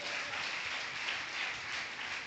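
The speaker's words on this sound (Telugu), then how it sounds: "చప్పట్లు కొడదాం గట్టిగా." Church congregation applause at a Sunday worship service, steady even clapping, fairly soft and distant, continuing throughout with no voices.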